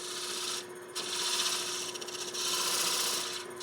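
A woodturning tool cuts inside a hollow wood form on a spinning lathe, giving close, loud scraping bursts in three passes separated by brief quieter pauses, with no talking.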